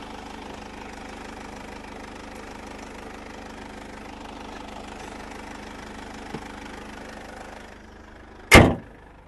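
The 2.2 CDi diesel engine of a 2017 Mercedes-Benz Vito with automatic transmission idles steadily with an even low rumble, then a single loud thump sounds near the end.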